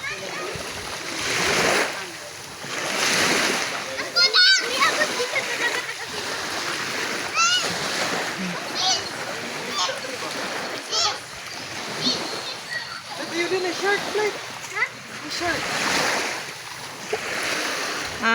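Children splashing and playing while swimming in the sea at a beach resort in Mabini, with repeated loud splashes, lapping surf and excited children's voices and shouts throughout, close by.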